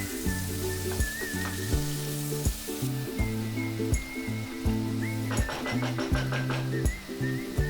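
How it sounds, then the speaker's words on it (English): Two tablespoons of butter melt in a hot pan, crackling and sizzling steadily, with soft background music running beneath and no talking. "in a hot pan add 2 tablespoons butter and allow the butter to melt"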